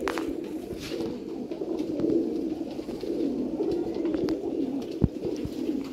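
A pair of domestic pigeons coo continuously, low and throaty, close by and overlapping, with faint background noise and a brief knock.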